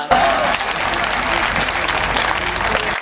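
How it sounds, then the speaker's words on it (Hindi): An audience at a Hindi comedy and satire poetry event bursts into loud, sustained applause, dense clapping filling the room with a murmur of voices underneath. "ये लोग जो तालियां बजा रहे हैं"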